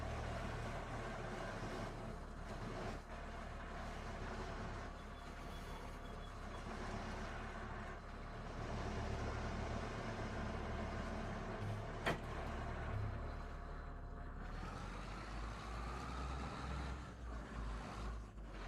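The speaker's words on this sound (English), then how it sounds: "Why is the lorry moving?" Lorry driving in Farming Simulator 25, a steady low engine drone and rumble with a broad rushing noise over it, continuous and fairly quiet throughout, with no talk.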